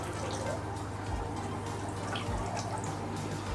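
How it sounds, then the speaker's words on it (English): Water trickling steadily from an adjustable aquarium water change drip system, a continuous close wash of running flow with faint low thumps, no talking over it. "So I've now got water that I can set any rate I want, from full on, whatever that is, 8 litres per minute, to a little drip."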